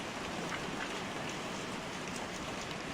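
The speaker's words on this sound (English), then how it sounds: "Oh, it's raining." Steady rain falls in a horror video game set at a glass staircase, a dense, even hiss of drops spread across the whole stretch with no talk over it.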